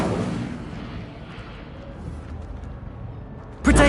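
An Incendio fire spell in Hogwarts Legacy lets out a loud roaring burst that fades into a rumbling tail, then a sharp new blast erupts at the very end.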